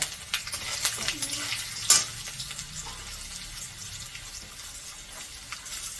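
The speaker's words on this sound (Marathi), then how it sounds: "शेंगदाणे पण घेऊ भाजून आणि मुगाची डाळ।" Peanuts and moong dal roasting in oil on medium heat, a soft crackling sizzle with a few scrapes and one sharp clink of a utensil, fairly quiet and close.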